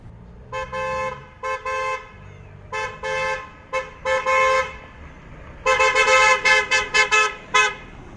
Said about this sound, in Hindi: आप लोग देख सकते हैं हॉर्न काफ़ी ज़्यादा लाउड है